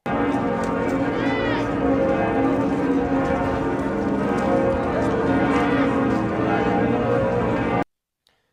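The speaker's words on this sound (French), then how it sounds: "les cloches des cathédrales du monde entier ont sonné à toute volée, comme celle de la cathédrale Notre-Dame de Paris" Notre-Dame de Paris cathedral bells pealing in full swing, a dense, continuous ringing wash with overlapping tones that stays loud and steady for about eight seconds before cutting off abruptly.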